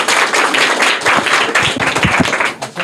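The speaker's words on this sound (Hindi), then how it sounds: "जोरदार तालियां" A classroom crowd at a school quiz breaks into brisk applause after a correct answer, many hands clapping close and loud for a few seconds before it thins out at the end.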